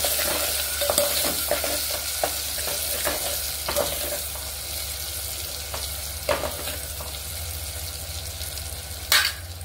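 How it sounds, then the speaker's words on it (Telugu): Onions and green chillies fry in oil with turmeric, giving a continuous close sizzle, while a spoon scrapes and stirs the pan in repeated clicks and a sharper knock near the end. "ఉల్లిపాయలు పచ్చిమిరపకాయలు కొంచెం వేగాలి."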